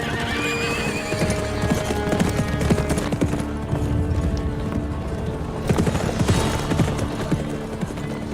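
Horses' hooves clip-clopping steadily and loud, dense overlapping hoofbeats with occasional neighs, soldiers' mounts setting off toward a forest in a period drama.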